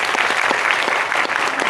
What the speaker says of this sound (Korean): 일단 두 분에게 박수 좀 부탁드리고요.